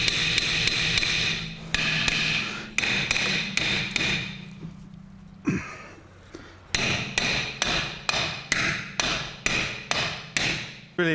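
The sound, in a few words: hammer hitting brake part on Land Rover Freelander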